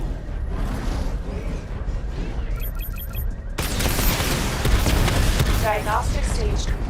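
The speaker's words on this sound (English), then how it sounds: "Missile barrage level 2 ready." Batmobile missile barrage in the video game Batman Arkham Knight: a brief electronic charge-up chirp, then a sudden loud roaring burst of launches and explosions that rumbles on, with a game voice briefly heard.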